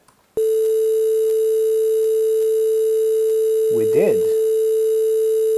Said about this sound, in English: if I evaluate this, we should get a annoying sine wave